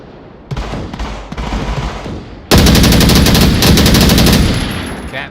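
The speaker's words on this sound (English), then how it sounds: "Cap shooting all over the place" Rapid automatic gunfire in the VR shooter Onward: a quieter burst of shots first, then a louder, nearer stream of fast rhythmic shots that holds for a couple of seconds before tapering off.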